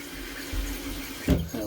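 Water running into a toilet tank after a fill valve replacement, a close hissing, gurgling flow with a brief louder surge near the end.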